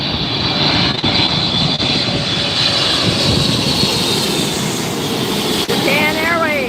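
Japan Airways airliner at LAX airport, a loud continuous engine roar with a high whine, close and steady for the whole stretch, a faint rising tone near the end.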